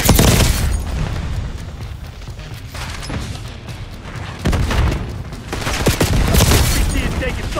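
Sustained automatic gunfire from Call of Duty: Black Ops 6 multiplayer roars loud and close, with continuous bursts, booming blasts and game voice callouts layered over the shooting.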